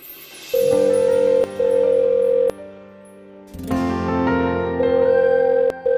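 A phone ringback tone sounds in steady electronic bursts, pausing briefly and starting again, with no one picking up.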